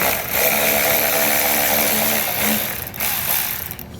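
A power ratchet or similar tool running on a 10mm bolt on a 2018 Tesla, a loud, steady mechanical whirr for several seconds that briefly dips, then resumes before easing off.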